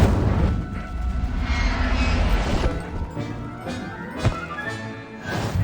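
The Incendio fire spell being cast in Hogwarts Legacy, heard as dense, roaring crashes and booms that fill the whole stretch, with one sharp impact near the end.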